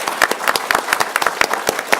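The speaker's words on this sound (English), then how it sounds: "let's have a big applause to our 3 distinguished panelists." Audience applause for three panelists at a policy event, a brisk burst of many hands clapping at close range, dense and steady throughout.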